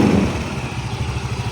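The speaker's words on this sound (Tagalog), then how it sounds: "Yan yung andar ng kanyang makina." A Yamaha Mio MXi 125 scooter engine, recently overhauled, idles close by with a steady, rapid low putter and a slight rattle from the loose body panels, with no talk over it.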